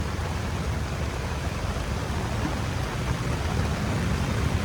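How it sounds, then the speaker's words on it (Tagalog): Heavy rain pouring down at Manila Bay's Dolomite Beach during a typhoon, a dense continuous loud hiss with no breaks and no voices. "Parang lumakas uli yung ulan."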